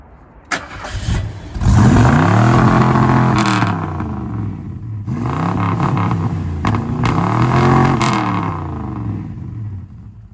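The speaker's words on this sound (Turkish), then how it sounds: "Ama motor sesi gayet düzgün." A 1975 Ford Granada V8 engine turns over and fires, then revs loudly twice in long, rising and falling surges, heard up close.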